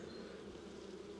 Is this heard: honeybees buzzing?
yes